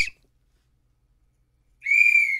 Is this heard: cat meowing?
no